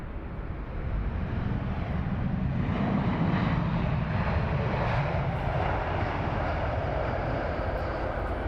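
A Boeing 787 Dreamliner at London Heathrow Airport gives off a steady, broadband jet roar that swells in the first second and then holds loud and even throughout, with no talk.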